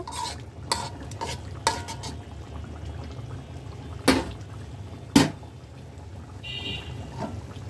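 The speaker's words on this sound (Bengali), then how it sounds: "এখন অন্য একটা কড়াইতে বাগার দিয়ে নিব" Spices for a tempering sizzle in a karahi pan while a spoon stirs and clanks against the metal, with a few sharp scrapes standing out over the steady frying hiss.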